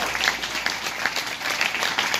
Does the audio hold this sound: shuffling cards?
no